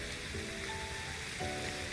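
Steady pouring rain on a city street in the Life Makeover video game, a dense, even hiss with no pauses and no voices, soft and constant.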